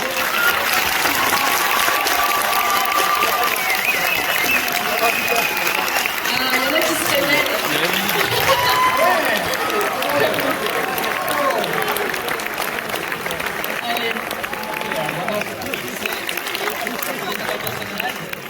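Steady audience applause at a cinema preview screening greets cosplayers joining the stage, a thick continuous clapping wash with voices talking over it throughout.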